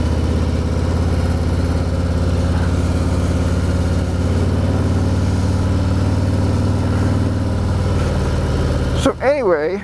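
A Harley-Davidson Road Glide Ultra motorcycle engine rumbles steadily while riding, a loud, continuous low drone that holds for most of the stretch before shifting and breaking up briefly near the end.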